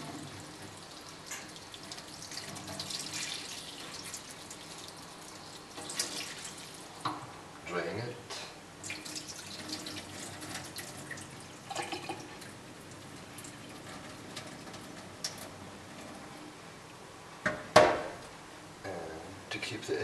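Water poured over soil-less wheat sprouts to flood them, a faint trickling and dripping that runs low throughout, with a person talking over it.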